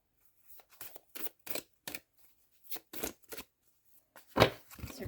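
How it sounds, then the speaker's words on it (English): Glossy, long oracle cards riffle and slap in short, crisp bursts with brief pauses between, close and fairly quiet, ending in a louder snap. "These are kind of hard to shuffle because they're really glossy and they're so long."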